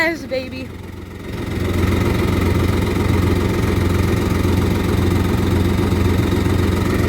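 A jet ski engine starts with a brief cranking burst, then settles into a steady, loud low idle rumble that continues unbroken for several seconds, close by.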